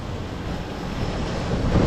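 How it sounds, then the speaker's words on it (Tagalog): Strong rushing water and gusty wind outdoors on a drizzly evening near Tayabas form a dense, steady roar that builds slightly toward the end, with no voices. "Yan lakas po ng tubig."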